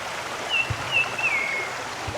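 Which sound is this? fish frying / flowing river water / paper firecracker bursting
flowing river water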